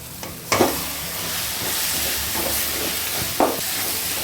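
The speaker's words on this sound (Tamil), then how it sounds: "சிக்கனை சேர்த்து நல்லா வதக்குவோம்." Chicken sautés with tomatoes in a pan for Chettinad chicken gravy, giving a steady close sizzle and hiss broken by a few sharp stirring knocks, with no talk.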